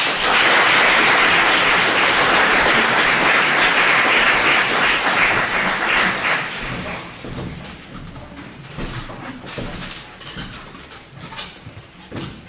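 An audience at a school open evening applauds student speeches, giving loud, dense, sustained clapping that fills the room, then gradually thins and fades into scattered claps.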